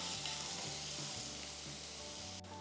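Sliced onions sauté in a pan for erachi puttu, a faint, even frying hiss with a low hum beneath and a few soft stirring scrapes, heard close with no talking.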